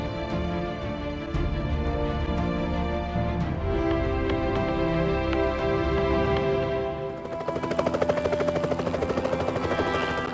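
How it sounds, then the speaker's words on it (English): A helicopter's rotor thumps and drones steadily over a village in China, growing louder and brasher toward the end as it comes closer overhead. "a helicopter appeared over the village"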